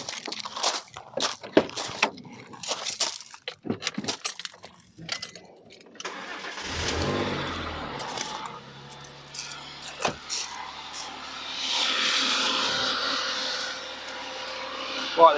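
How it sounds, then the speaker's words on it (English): A car engine cranks and fires up during a battery cranking test with a TOPDON BT200 tester, then settles into a steady idle with a brief rev, preceded by clicks and handling noises nearby. "so let me just start the engine."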